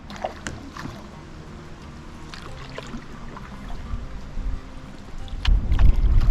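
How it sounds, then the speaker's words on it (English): Wind buffeting the microphone on a river canoe trip, a low rushing roar that swells toward the end, with scattered small knocks and splashes and no talk. "I don't know if you guys can hear the wind"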